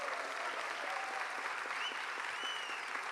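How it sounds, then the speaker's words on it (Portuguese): Steady applause from a theatre audience at a spoken-word festival performance, an even, continuous patter of many hands at moderate distance, with faint whistles or cheers rising through it. "Senhoras e senhores, recebam esse aplauso maravilhoso."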